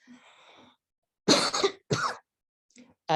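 A burst of harsh, loud post-COVID coughing in two close fits, preceded by a faint hum and followed by silence.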